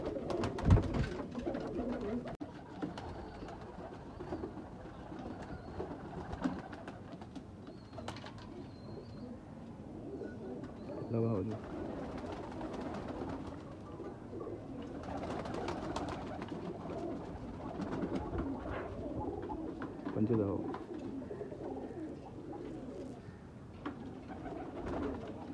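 Sialkoti pigeons at a breeder's loft in Faisalabad coo steadily and repeatedly through the whole stretch, soft and fairly close, over a low background hum with occasional clicks and no talking.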